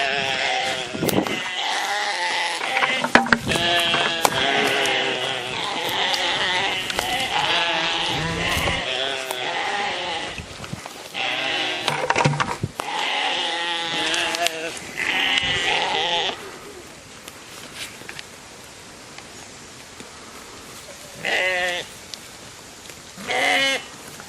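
Several ewes bleat loudly and repeatedly at close range as they chase after food, with a person talking among them. The calls thin out toward the end.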